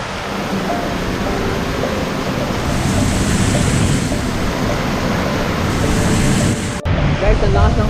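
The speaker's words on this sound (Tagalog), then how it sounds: "Napakalakas ng ulan." Heavy rain pours down steadily during a neighborhood flood, blending with rushing floodwater into a loud, continuous hiss. A brief sharp break comes near the end, with faint voices underneath.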